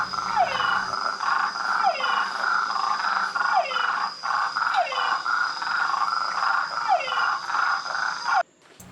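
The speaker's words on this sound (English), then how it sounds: "a mixture of frogs and toads calling" Frogs and toads call together at night in the Suriname forest, with steady trilling chorus and repeated falling croaks every second or so, loud and continuous until the chorus abruptly cuts near the end.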